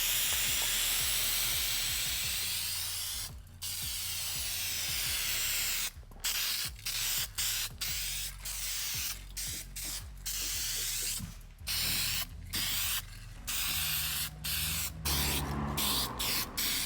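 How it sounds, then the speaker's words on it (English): An aerosol spray can lays self-etching primer onto bare car floor metal during rust repair, close and loud, in a series of hissing bursts separated by short pauses, with no talking. "now is also a good time to throw some self-etching primer on that"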